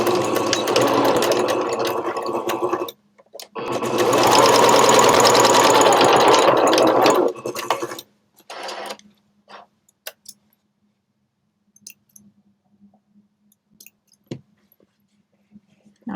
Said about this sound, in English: now we're gonna sew these close.